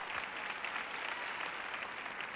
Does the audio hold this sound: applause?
yes